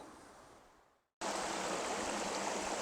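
Stream water rushes steadily through a rocky gorge bed at the bottom of a creek, first a softer wash that fades almost to silence, then a sudden loud, close, broadband roar of flowing water that continues unbroken.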